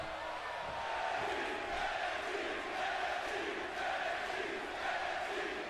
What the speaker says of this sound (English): As the crowd starts with the NXT chant